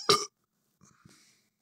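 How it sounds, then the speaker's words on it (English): A single short, loud burp bursts out at the start, followed by faint brief mouth or voice sounds. "Burping really isn't that funny anymore, but that wasn't planned at all."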